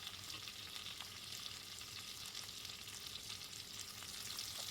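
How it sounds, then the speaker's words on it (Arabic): Chicken and garlic stirred slowly in a hot pan, a steady close sizzle of frying with soft scraping of the spoon running throughout, no voices. "بدي حركن على مهلة"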